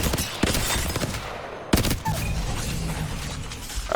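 The Hemlock gun firing in a video game, loud close bursts of rapid shots with sharp cracks and mechanical clatter, running almost continuously with no talking.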